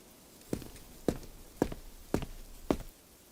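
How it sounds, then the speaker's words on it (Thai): Footsteps of two men approach, heard as five distinct, evenly spaced thudding steps with a slightly hollow ring against a quiet background. "ก็มีเสียงของชายสองคนใกล้เข้ามาฮะ"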